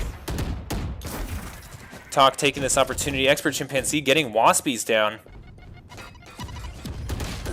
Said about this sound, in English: Gunshots going off like crazy.